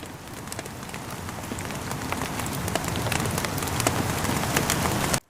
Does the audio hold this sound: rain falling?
yes